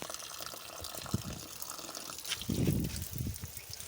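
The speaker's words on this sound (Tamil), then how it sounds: "வெங்காயம், இது கொஞ்சம் தண்ணி ஊற்றினா போதும் எல்லாத்தையும்" Water poured from a vessel over chopped tomatoes and onions in a cooking pot, a close splashing trickle that swells into a fuller gush midway, with no talking.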